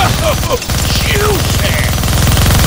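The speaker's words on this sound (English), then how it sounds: "Gonna need both hands to shoot that minigun." A minigun firing in the Deadpool video game, a loud, rapid, sustained stream of rattling shots with chirping effects over it and a voice talking through the gunfire.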